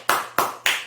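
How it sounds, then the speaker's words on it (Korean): Three crisp, sharp hand claps land in an even rhythm within a second, close and fairly loud, with no voices. "다시 한번 박수!"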